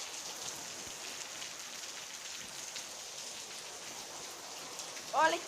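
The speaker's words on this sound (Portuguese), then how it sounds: "Tô chovendo muito forte." Heavy rain falls in a steady, dense hiss, moderately loud and even throughout, with a short voice sound right at the end.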